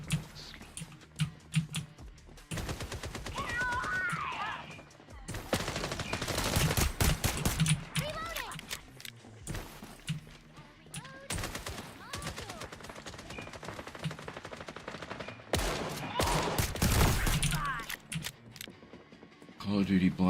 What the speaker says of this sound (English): This actually will fire Dragon's Breath rounds from hip fire.